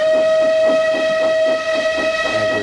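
A steam engine's whistle blows in the Trainz railway game, holding one loud, steady tone close up, with a rhythmic chuffing pulse beneath it.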